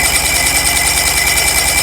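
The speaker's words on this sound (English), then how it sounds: "I'll crank the motor over for about 4 seconds or so" An outboard motor with its spark plugs removed is cranked over during a compression test, a loud, fast, even whirring chug of the starter spinning the engine without firing.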